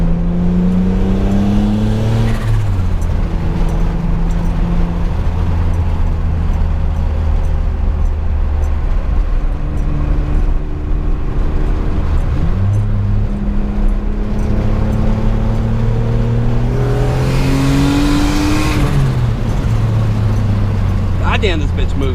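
A turbocharged 2006 Honda Accord with a J32 engine accelerates from inside the cabin, its engine note climbing through gears in repeated rising sweeps, loud and continuous, with a voice talking over parts of it.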